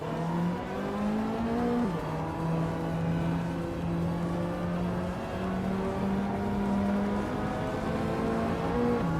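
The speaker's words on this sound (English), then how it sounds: "Move for Life is driving a 1996 Maserati Ghibli" 1996 Maserati Ghibli engine in a racing video game, a steady droning hum with gear shifts stepping the pitch up and down, sustained and moderately loud with no voices.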